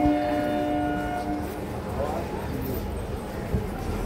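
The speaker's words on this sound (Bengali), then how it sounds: "এখন আমরা সোদপুর স্টেশনে আছি।" A train sits at Sodepur railway station, its low rumble and a brief horn-like tone early on running under steady platform bustle and nearby people talking.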